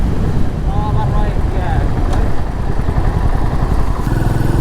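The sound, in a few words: Royal Enfield Meteor 350 motorcycle riding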